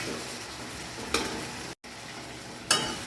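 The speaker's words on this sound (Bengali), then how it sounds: "এই সমস্ত মশলা তিন চার মিনিট ধরে ভালো করে কষা হবে" Spices sautéing in a pan for a Bengali cabbage dish, a steady close sizzle with two brief scraping stirs, no talking.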